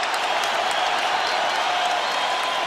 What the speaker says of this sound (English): And the Laker fans applauding the fight in their team here this afternoon against the Miami Heat.